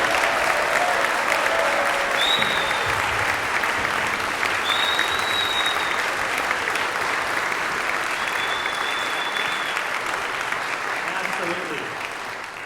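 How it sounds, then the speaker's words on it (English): Audience applause for volunteer orchestra musicians at a concert, a dense, sustained wash of clapping from a large crowd that holds steady and slowly fades near the end. "So please, warm round of applause for all of the musicians."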